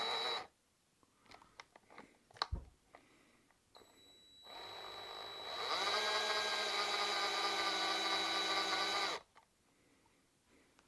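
After some quiet clattering, a power drill whirs up and runs at a steady high pitch for several seconds, then stops abruptly, during a Tekno SCT410SL RC truck build.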